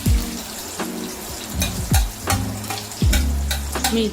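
Green chillies frying in a crackling mustard seed tempering for raw papaya chutney, a steady close sizzle broken by repeated sharp pops and spatters from a stirring spoon.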